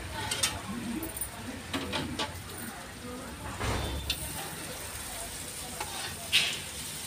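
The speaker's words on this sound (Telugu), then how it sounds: "బెండకాయ ఫ్రై చేస్తున్నావా?" Okra (lady's finger) frying in a pan in a small home kitchen, a soft ongoing sizzle with occasional utensil scrapes and clinks, faint voices in the background.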